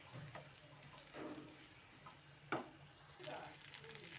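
Egg fried rice is stirred in a frying pan, with a soft continuous sizzle under intermittent scraping strokes of a spatula and one sharper clink, quiet and close.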